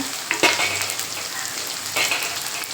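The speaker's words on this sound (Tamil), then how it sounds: "ஒரு ரெண்டு நிமிஷம் நல்லா வதங்கட்டும் பூண்டு" Garlic sizzles and crackles steadily in a hot pan, with a couple of louder stirring scrapes breaking through the constant frying hiss.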